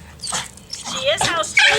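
A small pug bulldog mix whines and yips excitedly in a quick series of high, wavering cries, close and fairly loud, with no talk.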